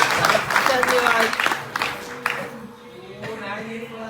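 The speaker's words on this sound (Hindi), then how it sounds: "पुनः एक बार ताली भैया के लिए।" Audience applause at a Hindu wedding vows gathering, a burst of clapping from a seated crowd that fades over a few seconds, with a voice speaking over it.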